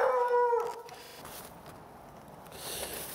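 A dog howls in a short, rising whine that trails into faint whimpering, fairly close but quiet, with low background noise afterward.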